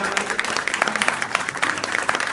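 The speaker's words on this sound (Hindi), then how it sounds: "इसके लिए भी भाई के लिए एक बार जोरदार तालियां बजा दो" Hearty audience applause at a Hindi poetry gathering, dense rapid clapping from a crowd that stays loud and continuous for the whole stretch.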